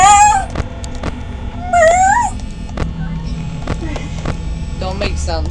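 A voice imitates a cat with a couple of whiny, rising meows, separated by soft clicks and faint background noise.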